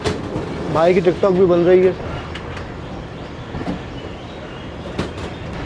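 The Attock Safari train pulls out of Golra Sharif junction railway station near Rawalpindi, with a steady rolling rumble and wheel clatter close by throughout; someone speaks briefly over it at the start.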